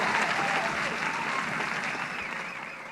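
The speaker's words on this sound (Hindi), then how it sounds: "जोरदार तालियां बजती रहें हमारे पहले प्रतिभागी के लिए" Loud, dense applause from an audience at a quiz event honouring contestants, sustained throughout at steady strength with a slight fade at the end.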